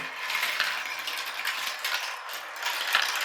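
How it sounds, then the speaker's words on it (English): A marble run elevator lifts marbles in a continuous rapid ratcheting clatter of small plastic mechanisms, close and steady, with bright rattling pulses throughout. "as they come from the sky rail, they go back up this elevator"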